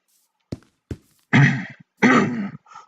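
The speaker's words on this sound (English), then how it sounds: "I'm sorry I'm clearing my throat on camera" A person with allergies clears their throat close to the mic, a few short rough throat-clearing bursts and raspy huffs in an otherwise quiet room.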